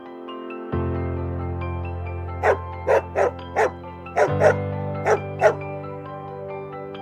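A cartoon puppy gives around eight short, high yips in a quick, uneven run over a steady sustained musical tone, close and clear, with no voices.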